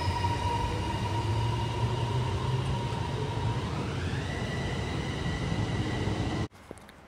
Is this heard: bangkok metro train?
yes